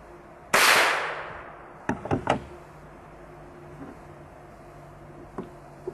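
A single sharp report from a semi-automatic .22 rifle firing a CCI Quiet round into clay at a few yards, loud at the start and then fading, followed by a few faint clicks and handling knocks.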